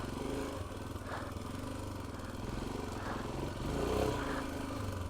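A Royal Enfield Himalayan 411 motorcycle rides through sand, its engine holding a low, steady chug with a few rises in revs, heard faintly from the rider's position and without talk.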